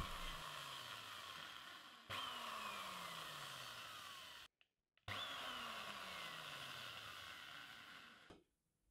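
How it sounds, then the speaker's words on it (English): A power drill whines loudly in two long runs drilling mounting holes for an Osborne 86 leather splitter, its pitch sliding down as it bites in, with a short pause between bursts and a quick stop. "Then I drill in my holes."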